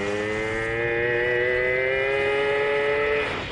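A moped fitted with a 75cc kit (AV10 engine) accelerates, its buzzing two-stroke whine climbing steadily in pitch for about three seconds before easing off, loud and close.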